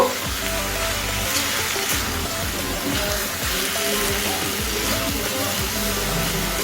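Grated mango and turmeric frying for a Bengali mango chutney, a steady soft sizzle with the scrape and tap of a stirring spoon repeating throughout, close by and alone.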